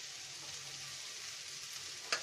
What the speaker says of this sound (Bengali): আমরা এখানে আস্তে একটু জিরা দিয়ে দিচ্ছি, পেঁয়াজটার সাথে ভাজা হবে।